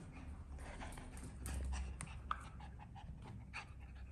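A dog pants and scuffles while tugging at a bowl used for mixing hair dye, quick rhythmic breaths and clattering bumps close by at moderate loudness.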